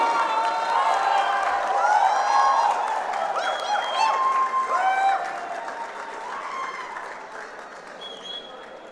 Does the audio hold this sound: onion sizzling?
no